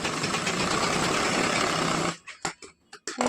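A sewing machine stitches 1-inch tucks on a katori blouse, running steadily and loudly for about two seconds before stopping into a few short, uneven bursts.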